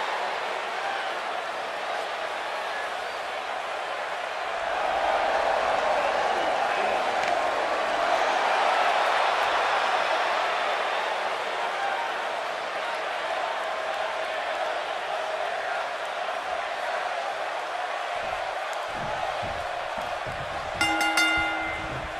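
A sold-out arena crowd in the WWE 2K19 wrestling game roars as a broad, continuous wash of noise that swells and holds for over twenty seconds, with a brief bell-like ring near the end.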